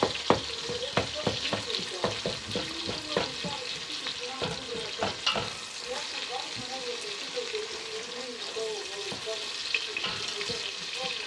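Onions fry in a pan and are stirred, with a close sizzle under repeated scraping, clattering utensil strokes that are busiest early and then ease off, plus some faint murmuring in the background.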